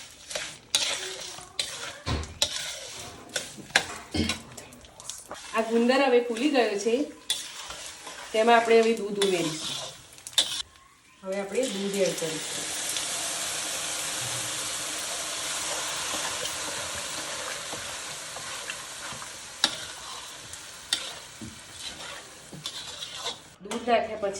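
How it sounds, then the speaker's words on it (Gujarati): Edible gum (gond) roasted in a pan with ghee for Gujarati gundar ni ped, giving steady frying sizzle and hiss with scraping stirring clatter; speech-like voices break in early, then a continuous loud sizzle carries alone. "આ ગુંદર હવે શેકાઈ ગયો છે આપણે હવે એમાં ઘી એડ કરીશું"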